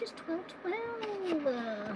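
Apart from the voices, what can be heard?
cat meowing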